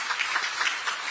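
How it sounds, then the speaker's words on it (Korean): An indoor audience claps steadily at a Democratic Party supreme council meeting in Chungju, a dense, moderately loud patter of many hands with no voices over it. "특별히 박수 한번 보내주시기 바랍니다."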